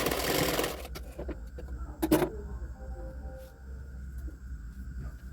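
A sewing machine runs a short stitching burst on a blouse hook strip, followed by quieter mechanical clicks and a low hum, close and moderately loud.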